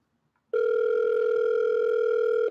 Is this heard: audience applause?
no